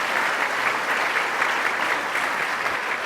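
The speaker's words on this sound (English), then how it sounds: "Let's give a round of applause to Joanne Falletta, the music director of the Buffalo Philharmonic" Steady, dense applause from a large audience honoring the music director of the Buffalo Philharmonic, a continuous wash of clapping at a loud, even level with no voices over it.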